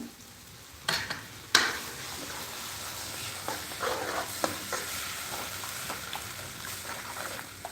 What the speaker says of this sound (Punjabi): ਹੁਣ ਆਪਾਂ ਨੇ ਜਿਹੜਾ ਬੇਸਨ ਘੋਲਿਆ ਸੀ ਉਹਨੂੰ ਵੀ ਆਪਾਂ ਇਹਦੇ ਵਿੱਚ ਐਡ ਕਰ ਦਾਂਗੇ